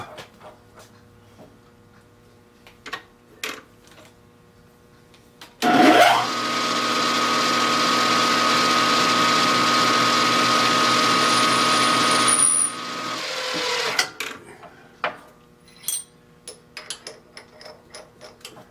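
A steady machine whir of a 1/4 inch spot drill runs for several seconds after a sharp start, then stops, with scattered clicks and taps of metalwork before and after.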